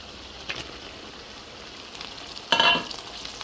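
Dried chapa shutki fish with chopped garlic frying in a pan, a low steady sizzle with a louder burst of crackling as ingredients hit the hot oil near the end.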